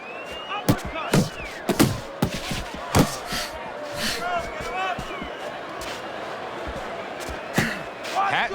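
Punches land in the boxing video game Fight Night Champion, sharp slapping thuds in irregular bursts and singles, heard under a commentator talking and a faint crowd murmur.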